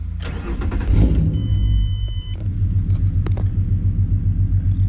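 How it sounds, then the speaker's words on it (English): A Ford Mustang engine cranks and catches, then settles into a steady, close, low rumbling idle with a brief electronic chime during the start. "let's turn the vehicle on so you guys can see it in action"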